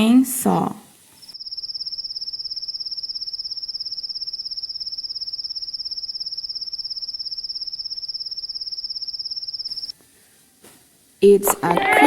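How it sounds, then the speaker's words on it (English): Cricket chirping in a steady, fast, high-pitched trill that runs unbroken for about eight seconds, bracketed by short bursts of other sounds at the start and end. "cricket."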